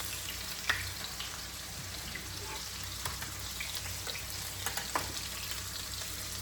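Chicken browning in a pot for Jamaican curry chicken, giving a steady, faint sizzle and frying hiss with a few soft stirring clicks, no talk.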